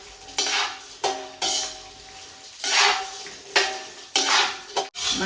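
Peanuts fry in a pan and are stirred, with a steady close sizzle broken by repeated rattling scrapes of the spoon at roughly one-second intervals, loud and with no voices.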